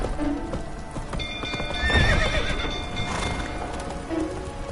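Roach the horse from Witcher 3 gallops with steady clip-clop hoofbeats and a neigh, over a dense game background of ambient tones and music.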